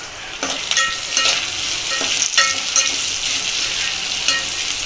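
Onions fry with cumin, cardamom, mint and curry leaves in a pan, a steady close sizzle punctuated by repeated sharp scrapes and clacks of a spoon stirring every half second or so.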